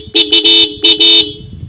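Dual horn fitted to a new Bajaj Pulsar 125 motorcycle sounds loud and close in a quick pattern of short and longer two-tone blasts, then cuts off into a quiet tail.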